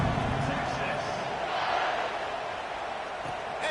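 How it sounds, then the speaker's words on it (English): A stadium crowd buzzes at a Texas vs Nebraska college football game after a score, a dense steady roar from many voices with a commentator talking over it. "this crowd is buzzing after that last score"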